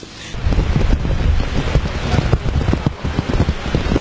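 Heavy rain lashing down with gusting wind during Cyclone Matthew in Port-au-Prince, Haiti, a loud, continuous roar of falling water with rumbling wind buffeting the microphone throughout.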